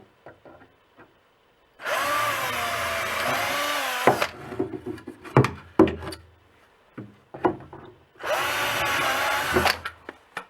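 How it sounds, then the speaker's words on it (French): A power drill pre-drills holes in wood while building a table saw cabinet, in two loud sustained whirring bursts separated by clattering handling and knocks, with no talking. "On pré-perce comme d'hab."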